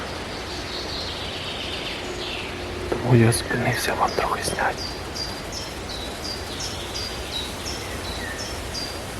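Birds sing in a forest in the Kyiv region, their high chirps and short repeated whistles carrying through steady woodland noise while someone speaks briefly over them.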